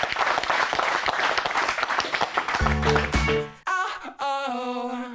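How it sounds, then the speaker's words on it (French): A studio audience applauds a demonstration with dense, loud clapping for about two and a half seconds, then music rises over the fading applause. "on peut les applaudir très fort pour cette démonstration"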